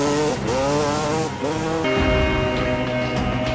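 A trail motorbike revs and races in a video game, its engine pitch climbing and shifting through gears, loud and continuous with some tire-like squeal and no voices.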